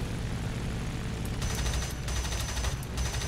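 La-5 fighter plane's nose-mounted guns fire in sustained bursts in a combat flight game, a dense rattling over a constant engine drone.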